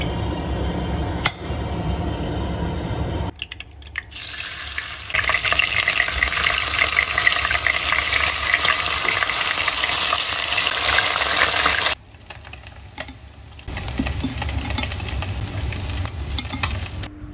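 Whitebait frying in oil, a loud continuous sizzle and crackle close up, broken by brief quieter gaps where the hiss drops away before the frying roars back.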